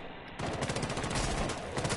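Rapid bursts of gunfire in a video game, dense and steady after a brief quiet start, with a loud continuous rattle of shots filling the whole clip.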